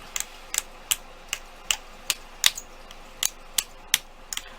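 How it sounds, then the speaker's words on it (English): Sharp, evenly spaced chopping clicks, about a dozen in under five seconds, a blade chopping translucent polymer clay on a hard surface, close and crisp with a faint hiss beneath. "what I'm going to do is just chop them up"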